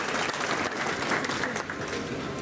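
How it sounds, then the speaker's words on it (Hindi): An audience bursts into steady, dense applause to welcome a doctor at an Ayurvedic hospital event, continuous clapping filling the room at close range with no voices. "ताली बजाकर आपको स्वागत करें"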